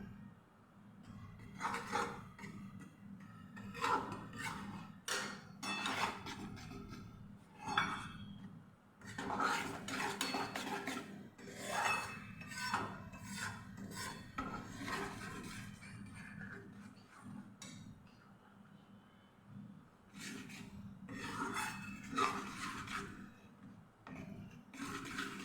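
Fine wheat flour being stirred and roasted in melted ghee in a pan over a low flame for traditional sukhadi, heard as repeated scraping and clinking strokes of a spoon against the pan, steady and close, with no talking.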